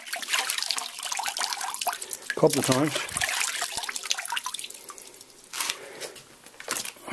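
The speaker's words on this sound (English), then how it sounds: "All I do with this is just knock the salt off and rinse it off in the water" Pieces of salted cod are rinsed in water in Newfoundland, giving splashing, dripping and trickling sounds with some wet crunching, while a person talks over them.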